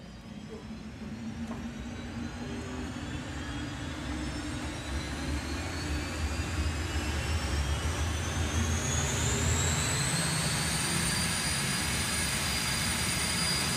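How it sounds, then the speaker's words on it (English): A General Electric J85 jet engine on a drag-racing car spools up at a drag strip, its turbine whine climbing steadily in pitch over a loud, constant roar. "So the General Electric J85 jet engine starts up"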